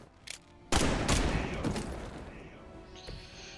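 Gunfire in the video game Marvel's Midnight Suns: a faint shot, then a loud sudden blast and a second burst that roll into a long decaying rumble, with a bright ringing tail near the end.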